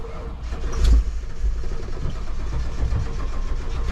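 A 1995 Ford one-ton truck with a 5.8 351 V8 runs with a rough, low rumble that surges briefly early on, then continues unevenly as it struggles toward stalling.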